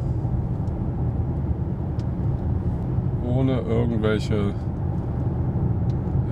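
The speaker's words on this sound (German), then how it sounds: "jetzt sind wir wieder ein bisschen rein elektrisch unterwegs" Low, steady road rumble and tyre noise inside a Mercedes E 300 de plug-in hybrid estate rolling on electric power with the diesel engine off. Someone talks briefly over the rumble.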